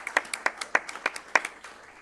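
Applause at a college board of regents meeting: a small group claps in quick, uneven bursts, moderately loud and fairly close, tapering off toward the end.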